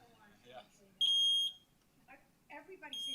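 A household smoke alarm sounds after its test button is pushed, giving a loud, piercing electronic beep for about half a second, then another starting near the end, amid people talking in a meeting room.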